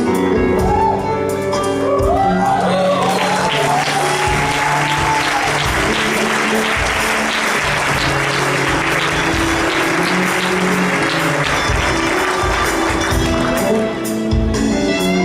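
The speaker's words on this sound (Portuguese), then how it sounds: "Você pode aplaudir mais forte?" A church congregation at a worship service applauds together, a loud sustained wash of clapping that swells after the first few seconds and holds steady, with music and voices mixed underneath.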